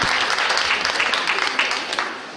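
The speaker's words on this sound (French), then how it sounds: "Merci Denisa, on l'applaudit très fort." An audience claps for a dancer at a regional dance competition, a dense spread of hand claps that stays steady and holds fairly close before thinning toward the end.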